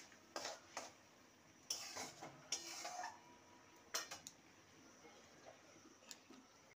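Vegetarian curry with spices and black pepper is stirred in a pan, with faint, scattered taps and scrapes of a spoon against metal at irregular intervals.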